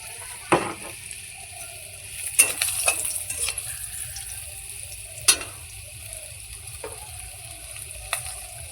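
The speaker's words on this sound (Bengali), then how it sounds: "রসুন মরিচ তেলানি করলাম," Garlic and chilli frying in oil before greens go in, a low steady sizzle broken by several sharp spatula knocks and scrapes against the pan.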